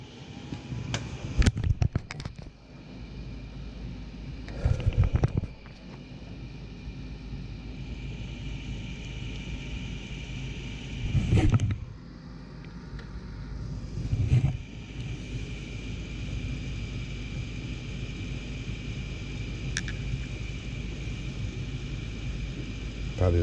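Inducer motor on a 2003 furnace starting up and running as a steady low whirring hum, with a few louder clunks and surges along the way.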